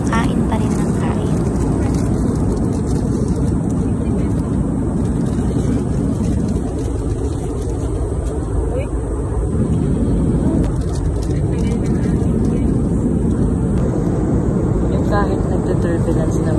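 Inside an airliner cabin during turbulence, a steady loud roar of engine and airflow fills the whole stretch without a break, with faint voices under it.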